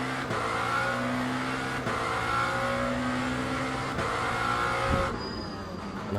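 Race cars accelerate hard together in the Le Mans Ultimate racing game, engines revving loud and continuous with several sharp gear-change breaks, building toward a turn at the start of a race.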